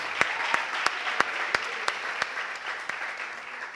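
Church congregation applauds during a sermon, a soft wash of crowd clapping punctuated by a few sharp, evenly spaced louder claps near the microphone.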